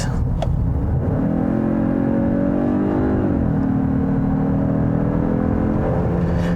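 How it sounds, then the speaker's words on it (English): A steady engine drone with rising, revving harmonics swells and holds, then eases and climbs again: artificial induction noise piped through the speakers of a 2021 Genesis G80 2.5T, heard from inside the cabin with no talking. "Genesis is pumping in a fake induction noise"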